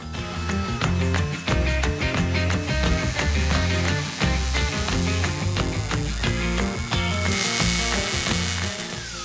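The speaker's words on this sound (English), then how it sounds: "Hot pulse MIG welds are perfect for these open corner edges." A Miller Multimatic hot pulse MIG welds new 16-gauge steel to crusty old 18-gauge sheet for a 1970 Dodge Charger firewall. It makes a loud, continuous buzzing crackle with a rapid, rhythmic pulsing throughout.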